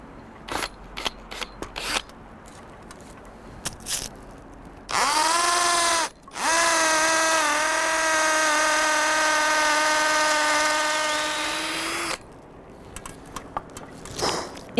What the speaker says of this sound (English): drill a hole approximately 6 to 7 cm into the tree using the 10 mm